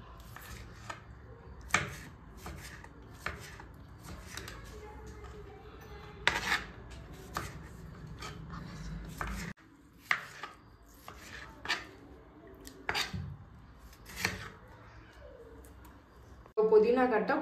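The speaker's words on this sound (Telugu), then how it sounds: "ఇప్పుడు ఈ 7 ఎర్రగడ్డలు అన్నీ ఇట్లానే కట్ చేసుకోవాలి." A knife chops red onions and tomatoes on a cutting board in a home kitchen, with sharp irregular taps, some louder strikes, and quiet gaps, while a person talks softly over the work.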